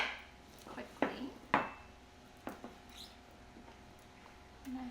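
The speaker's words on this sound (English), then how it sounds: "I'm just gonna chop up some carrots big chunks so they don't melt quickly." A knife chops carrots into big chunks on a cutting board, with a handful of sparse, sharp taps spaced about a second apart, quiet and close, over a low room hum.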